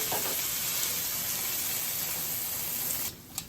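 Onions and other vegetables for a crawfish queso with chorizo soften in a hot pan, giving a steady close hiss and sizzle that drops away just before the end.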